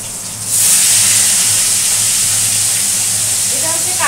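Fish hit hot oil with a sudden loud hiss that settles into a strong, steady frying sizzle, close by, with a faint voice underneath near the end.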